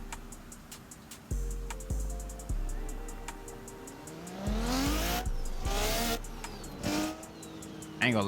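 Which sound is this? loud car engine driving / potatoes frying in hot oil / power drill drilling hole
loud car engine driving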